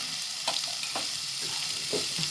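Two fairly large onions fry in oil in a kadai, giving a steady close sizzle broken by a few soft stirring scrapes.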